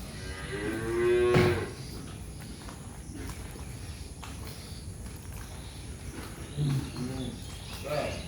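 A single deep moo from a pregnant cow rises near the start, followed by outdoor farm ambience with rustling, shuffling steps and faint insects.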